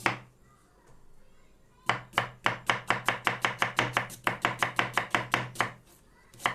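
A knife chops an onion rapidly on a cutting board, a quick steady run of sharp taps with a brief pause midway, close and clear.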